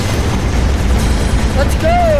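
Grenade blast in the VR game Rec Room, a loud, close, sustained boom and rumble that fills the whole moment, with a rising synthetic whine toward the end and no talking.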